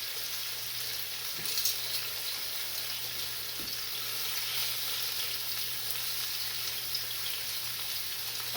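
Food frying in oil in a pan while supper is being cooked, giving a steady, close sizzle and hiss throughout with no talking.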